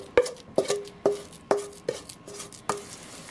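Thick sweet potato brownie batter is scraped with a utensil into an 8x8 baking dish, about six sharp taps and knocks at a steady rhythm, each with a brief ringing clink, close up with no talking.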